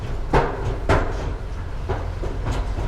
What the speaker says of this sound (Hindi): आवाज वैसा ही आता है जैसे ट्रेन में आती है ना थक्कड़ थक्कड़